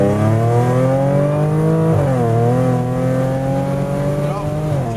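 Stage 3 Audi S5 running on ethanol, tuned to 530 hp, accelerating with exhaust valves open, a loud rising engine howl with a shift dip midway, then climbing again, heard close.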